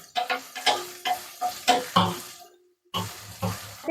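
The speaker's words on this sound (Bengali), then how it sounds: "আর কুমড়োটা মোটামুটি অল্প ভাজা হয়ে এসেছে এবার দিয়ে দেওয়া হবে বেগুন" Potato, pumpkin and brinjal fry in a pan as a utensil stirs and scrapes in regular strokes over a soft sizzle, with a short quiet gap before the stirring resumes.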